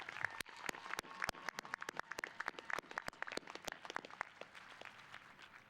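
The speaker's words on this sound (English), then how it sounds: "Again, a round of applause for President Gordon and his 22 years of visionary leadership." Scattered applause from a commencement audience for President Gordon, with distinct separate claps in an irregular rhythm, fairly faint and distant, with no voices over it.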